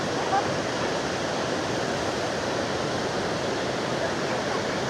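Iguazu Falls in Brazil roars as a dense, steady wash of falling water, loud and unbroken throughout, with no other sounds standing out.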